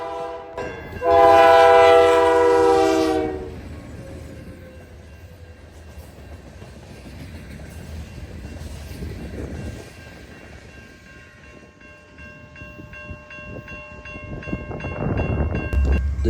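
Canadian National L504 freight train sounding a loud, sustained horn blast near Burlington, Wisconsin, in Honey Creek, followed by a long steady rumble of passing rail cars and rising wheel noise toward the end.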